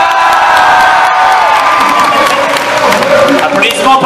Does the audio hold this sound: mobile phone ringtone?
no